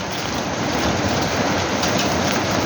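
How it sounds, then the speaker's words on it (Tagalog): Heavy rain pours steadily and loudly, a dense unbroken hiss with no voices, while people are stranded at an old clubhouse. "Ulan na guys!"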